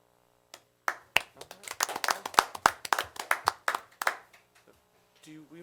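A group of people at a county commissioners' meeting claps, starting with a few isolated hand claps and building into a short burst of steady applause before fading out, with a brief voice at the end.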